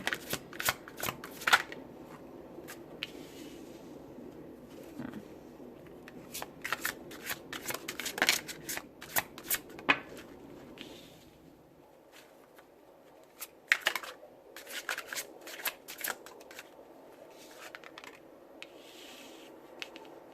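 Tarot cards shuffled by hand at close range, with crisp papery riffles and rapid flicks in repeated bursts, softer passages between them and a short quieter pause near the middle. No talking.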